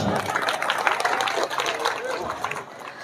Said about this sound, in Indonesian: Iya, tepuk tangan dulu.